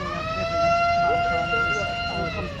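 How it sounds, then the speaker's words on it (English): A siren on a vintage military vehicle at a show field wails with a steady, sustained tone, loud and close, over outdoor background noise and some talk. "Oh look, he's got a siren."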